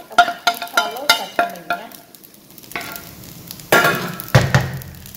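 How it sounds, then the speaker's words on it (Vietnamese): Vegetarian fried rice stirred in a sizzling pan, a series of sharp spatula scrapes and clinks in a quick uneven rhythm over a soft frying hiss, with a few louder scrapes toward the end. "mình trộn đều lên là chín"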